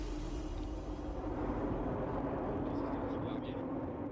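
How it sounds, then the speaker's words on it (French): Low-flying aircraft at night over remote French countryside, about to drop paratroopers from very low altitude, with all its lights off: a steady, loud engine drone fills the whole stretch, with faint voices beneath it. "un avion tout feu éteint va larguer des parachutistes à très basse altitude"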